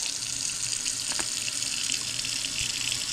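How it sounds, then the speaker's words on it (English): Hot soapy water running from a tap into a sink for cleaning a Jetboil Genesis camp stove, a steady hissing stream with occasional splashes. "I'm going to do it in the sink. I'm just going to put more soapy water in,"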